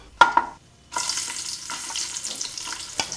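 Onions tipped into a pan of frying cashews and raisins, a couple of sharp clacks and then a sudden burst of steady hissing sizzle with occasional stirring.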